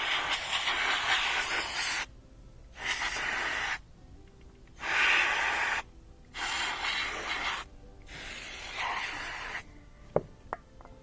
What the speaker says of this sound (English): Use a little canned air to get in there